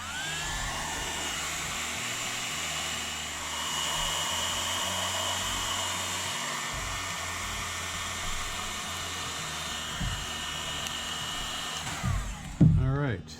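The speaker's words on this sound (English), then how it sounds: "we're going to heat it up with a hair dryer" A hair dryer heats glue on a snow globe under repair, blowing with a steady, loud whirring hiss for several seconds, then cuts off, leaving a few soft handling clunks.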